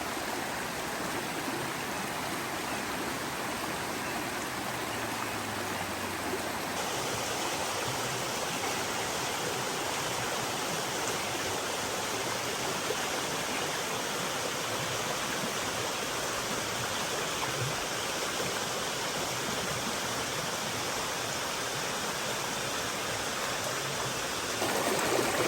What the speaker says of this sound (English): So the creek is up quite a bit.